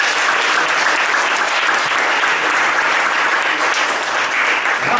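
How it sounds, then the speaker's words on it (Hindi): A church congregation at a convention applauds loudly and steadily, a dense, even roar of many hands clapping without pause. "यीशु मसीह के लहू की कुर्बानी के लिए जोर से ताली बजा दो"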